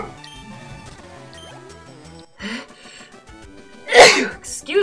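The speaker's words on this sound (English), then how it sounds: "Excuse me, I just sneezed." A single loud, abrupt sneeze bursts out near the end over quiet game music and a bit of talking, close to the microphone.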